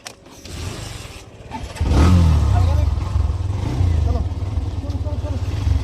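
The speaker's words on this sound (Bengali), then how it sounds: "আব্দুল্লাহ বাইক স্টার্ট বন্ধ করবে না, একদম সিধা চলো" A motorcycle engine running close by. A low, rumbling drone grows louder and stays steady for several seconds, with a few faint creaks in the background.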